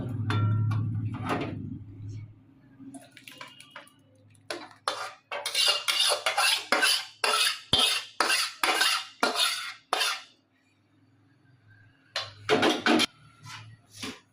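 A run of rapid metallic scrapes and clinks as a spoon scrapes chutney from a pan into a dish, with brief pauses between strokes.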